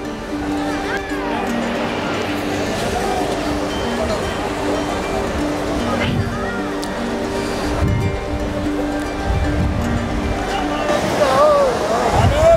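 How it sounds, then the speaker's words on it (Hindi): The Ganges rushes past the ghats of Har Ki Pauri in Haridwar during the 2021 Mahakumbh, a steady, full roar of flowing water with a crowd's voices and talk mixed in throughout. "ये पानी के बहाव देखिए ऊपर से कैसा लग रहा है"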